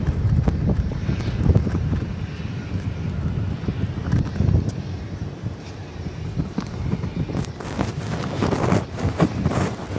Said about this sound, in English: the wind may be trying to prove me wrong right now